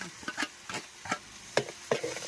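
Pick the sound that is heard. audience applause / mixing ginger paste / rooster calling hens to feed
mixing ginger paste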